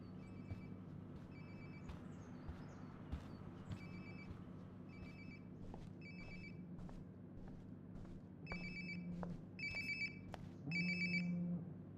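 A phone rings in the video game Life is Strange: Before the Storm, repeated electronic ringtone bursts in a steady pattern over a low ambient hum, getting a little louder toward the end.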